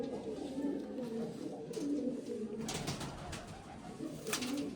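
Kept domestic pigeons coo in repeated low, throaty rolls close at hand, with scattered clicks and shuffling noises around them.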